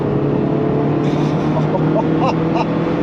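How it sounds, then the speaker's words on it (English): A Toyota MR2 Mk3 sports car engine hums steadily at moderate revs, close by, with a faint rising whine and a few light clicks over the drone. "the engine, I mean, it just wants to rev. Listen to it."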